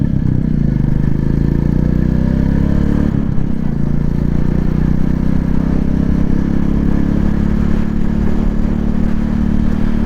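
A Royal Enfield Classic 350 motorcycle cruising on a highway gives a steady, loud engine drone with heavy wind rumble. It runs unbroken for the whole stretch, with a brief dip partway through.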